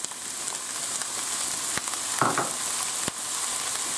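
Chopped onion and pepper frying in hot oil, a steady dense close sizzle with a couple of sharp pops and a brief scrape partway through, no voices.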